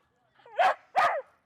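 An off-leash dog gives two sharp, close barks in quick succession, each short and forceful, with quiet before and after.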